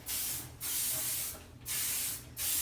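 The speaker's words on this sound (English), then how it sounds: "And I always finish it off with a bunch of hairspray." Hairspray is sprayed onto curled hair in three close, loud hissing bursts of roughly half a second to a second each, separated by brief pauses.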